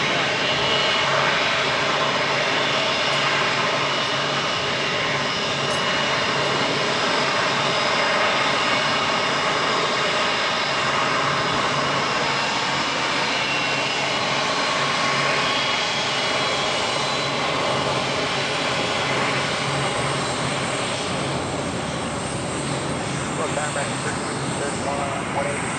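Aircraft engine roar at Los Angeles International Airport, a steady broadband jet rumble sustained throughout, with voices talking faintly under it.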